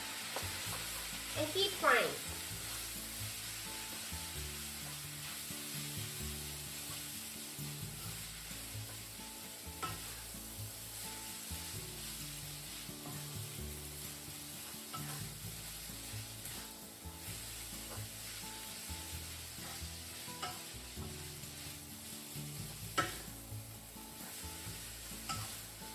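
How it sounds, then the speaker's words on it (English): Yakisoba noodles with water stir-fried in a pan with crispy bacon give a steady, close sizzle throughout, broken by repeated scraping and stirring strokes of a utensil against the pan. "and keep frying."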